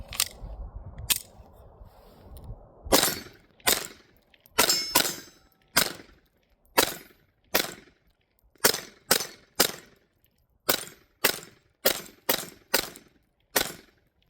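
A Taurus TX22 pistol fires .22 rounds, including Mini Mags, until the magazine runs empty: about eighteen sharp, close reports in an uneven string, some in quick pairs and some with gaps, each cracking and then fading quickly.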